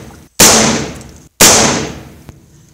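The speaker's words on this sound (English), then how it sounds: "we're gonna try to just open the bottom of the box by shooting right down this flap where it needs to open" Two sharp, loud gunshots about a second apart, each with a sudden crack and a ringing decay, fired at close range into the bottom flap of a GoPro Hero 7 box.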